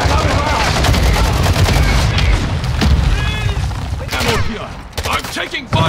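Rapid gunfire and booming blasts from a Call of Duty DMZ match, dense automatic bursts close and loud with a voice speaking briefly amid the shooting.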